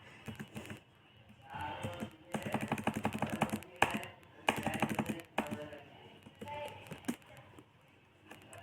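Typing on a computer keyboard while entering figures, with bursts of rapid close key clicks separated by short pauses and a few louder single taps, like an Enter key.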